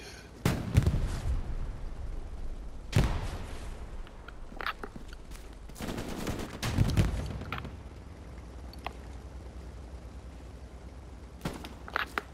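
Booming tank cannon blasts and scattered rifle shots in the Hell Let Loose World War II video game, several heavy explosions spaced seconds apart with lighter cracks between, some near and some distant.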